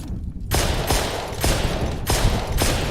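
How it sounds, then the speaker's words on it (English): Gunshots fired in the game The Long Drive, with bullets deflecting, come as loud, sharp bursts roughly every half second, about five shots in a row with short tails between them. "Oh, the bullets deflect at a crazy angle."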